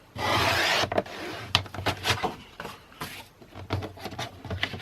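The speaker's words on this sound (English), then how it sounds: "So I'm just going to do that with my trimmer" A paper trimmer slices through an A4 sheet of card with a rasping, scraping stroke. A few sharp clicks and taps follow as the card is handled, close up and clear.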